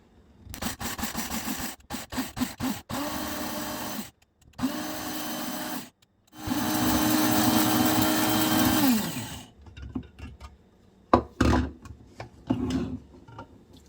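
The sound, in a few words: coffee grinder grinding dried ginger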